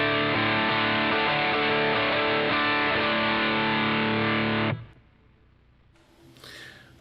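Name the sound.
distorted electric guitar tone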